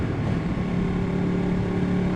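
A Ducati 1199 Panigale motorcycle being ridden gives off a steady, loud engine drone with a strong low hum and wind-like rush, holding constant throughout with no voices.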